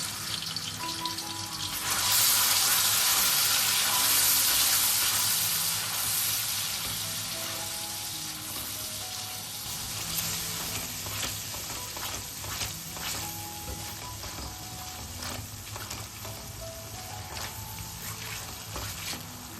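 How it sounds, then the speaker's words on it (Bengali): Ginger-chili paste and turmeric hit a little vegetable oil in a pan with a loud sudden sizzle that slowly fades to a lower crackle, while a steady tonal hum runs underneath throughout. "অল্প করে ভেজিটেবল অয়েল ঢেলে দিচ্ছি। আদা আর লঙ্কা বাটাটা দিয়ে দিলাম। হলুদ দিয়ে দিলাম।"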